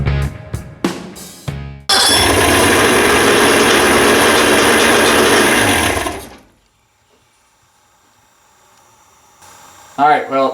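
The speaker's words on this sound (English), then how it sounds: "Alright, well, the motor is running." Outboard motor on an old pontoon boat starting up after a few cranks, then running at a loud steady rumble for about four seconds before cutting out; a voice speaks briefly near the end.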